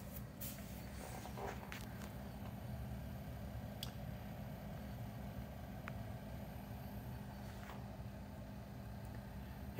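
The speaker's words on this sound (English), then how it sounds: "The fan is going, you can hear the fan." The cooling fan of a van refrigerator freezer runs with a faint, steady whirring hum, like a small air conditioner. A few light clicks sound close by.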